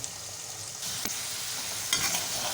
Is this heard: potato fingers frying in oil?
yes